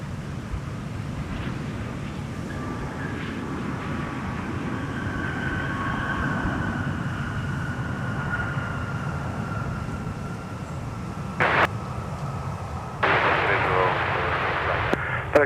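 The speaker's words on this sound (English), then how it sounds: "we have an arriving 757-300." A Boeing 757-300 arriving at Minneapolis–St. Paul Airport gives a steady, distant jet roar with a faint rising whine, and a couple of brief louder bursts come near the end.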